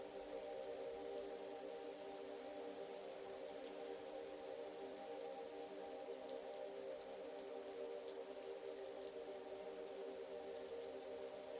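Steady rain falls outside as a continuous, even hiss that holds at a soft, constant level throughout, with no talking.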